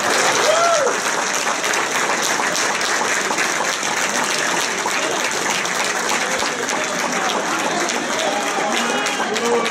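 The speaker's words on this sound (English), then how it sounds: "give a warm round of applause" Warm, sustained applause fills a room at a soccer referees' retirement party, dense steady clapping from a sizable crowd that carries on loud throughout.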